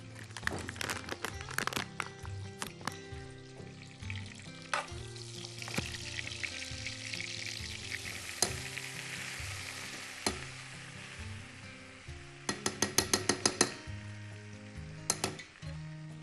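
Flour paste frying in oil and stirred for a béchamel sauce, with a steady sizzle, spoon scraping and occasional clinks against the pan, heard close and alone.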